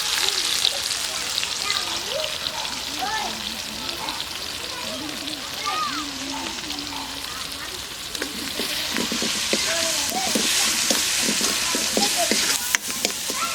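Spices fry in a pan with a steady hiss and sizzle while being stirred. Voices talk over the cooking, and the sizzle grows denser and louder toward the end.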